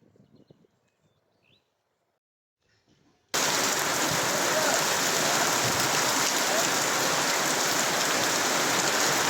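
After a few seconds of near silence, heavy rain suddenly pours down at a buffalo farm in Sirajdikhan, a dense, loud, unbroken roar that holds to the end.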